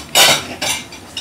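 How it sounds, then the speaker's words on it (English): Dishes and cutlery clink in two or three sharp, close bursts as a dishwasher is unloaded at home, with short quiet gaps between the clatters. "Help Daddy unload the dishes."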